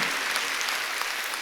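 A church congregation at an Easter Sunday worship service claps together in a dense, sustained burst of applause that fills the short moment.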